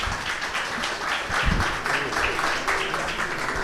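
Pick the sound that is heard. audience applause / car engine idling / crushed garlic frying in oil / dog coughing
audience applause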